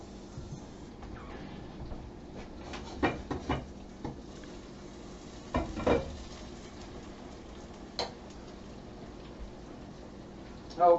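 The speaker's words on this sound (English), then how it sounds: "I'm going to stir my potatoes" Potatoes are stirred in a hot pot for a Sunday dinner of smothered chops: a soft steady sizzle with occasional spoon scrapes and knocks against the pot.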